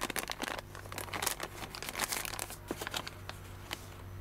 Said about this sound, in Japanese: そしたら袋を折り返して軽く封をしましょう。